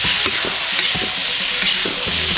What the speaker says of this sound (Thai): มึกผัดซอสหอย